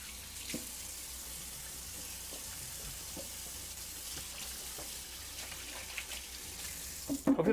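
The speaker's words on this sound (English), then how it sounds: "Hopefully that water is not super, super loud either." Water runs steadily from a kitchen faucet into a sink while food is being cooked, a soft continuous hiss with small splashes, fairly quiet, ending in a few louder clatters; no speech.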